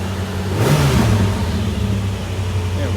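A 1985 Ford Mustang LX convertible engine, freshly serviced, revs up once, briefly and loudly close by, then settles to a steady idle.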